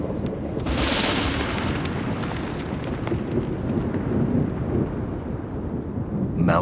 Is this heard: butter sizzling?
no